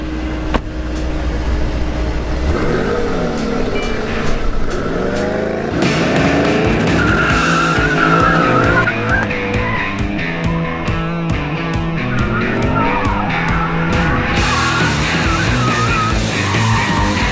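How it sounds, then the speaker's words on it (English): A Mercedes-AMG E63 S Wagon, all-wheel drive with over 600 hp, revs hard while its tires squeal and skid for a long stretch, engine roar and screeching rising and falling close by with no talk. "So you're gonna show us how to do a burnout?"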